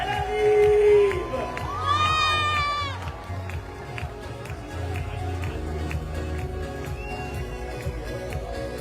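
A crowd in Reims greets the Olympic flame with excited whoops and high shouts that swell early and then ease into a busy murmur of cheering and scattered clapping, with voices talking over it.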